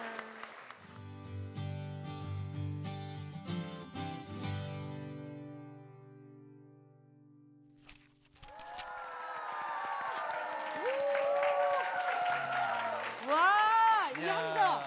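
Students at a Christian school event break into loud, lively cheering and applause that swells after a stretch of sustained instrumental music ends, with excited voices rising and falling over the crowd noise.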